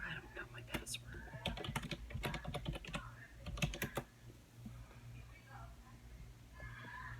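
Fast, forceful typing on a computer keyboard, dense rapid clicks in bursts for the first few seconds, then quieter, with soft speech in the background.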